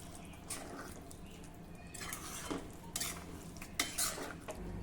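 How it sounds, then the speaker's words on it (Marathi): Brinjal gravy being stirred in a pan as hot water is added, with soft scraping and splashy stirring strokes at a steady rhythm close by, a light clink of utensil on the pot near the end. "आवश्यकतेनुसार गरम पाणी घालूया."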